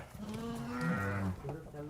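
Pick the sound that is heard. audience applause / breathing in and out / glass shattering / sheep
sheep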